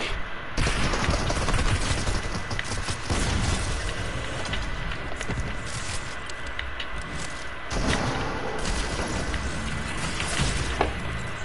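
Rapid bursts of semi-automatic rifle fire in the Fortnite video game, loud and dense over a continuous battle din with no talking.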